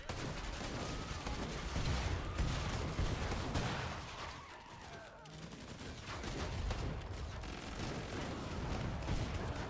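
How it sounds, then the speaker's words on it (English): A slow-firing gun in the game Killing Floor 2 lets off shots amid dense, loud combat noise, with spaced sharp cracks over a continuous chaotic din. "God, this is a slow firing gun."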